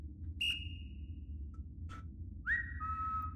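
Whistle blasts in a VRChat horror map: a short bright whistle tone, then a longer, louder sliding whistle a couple of seconds later, set over a steady low rumbling background with no talking.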